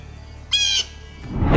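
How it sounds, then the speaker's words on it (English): A blue jay gives a single loud, harsh call lasting about a third of a second, close by, followed by a rising burst of broadband noise at the end. "blue jays certainly do make a lot of noise"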